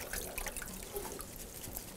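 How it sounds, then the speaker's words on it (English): Cold tap water runs steadily while bagged vegetables are given a quick, gentle rinse, a soft continuous trickle and splash with no talking. "just give it a quick rinse in your cold water"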